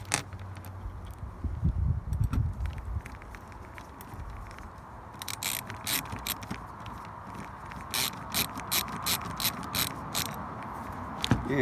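A hand tool loosens screws on a Sunfish sailboat bow handle, giving quiet, repeated ratcheting clicks in short bursts alongside low handling and scraping noises, close up with no talk.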